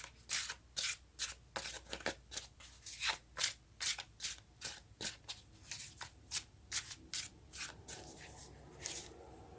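Tarot cards are shuffled and drawn by hand in a quick rhythmic series of soft riffling flicks, close and fairly quiet, with no voices.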